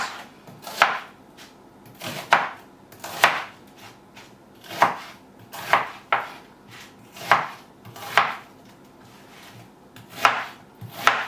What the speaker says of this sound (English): With the onions, cut into wedges.